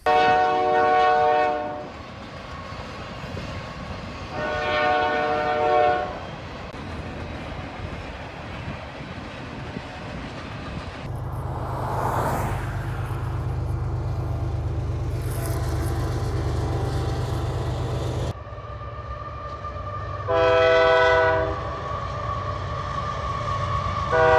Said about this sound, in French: Et dans les prairies, il y a des trains aussi. Beaucoup de trains.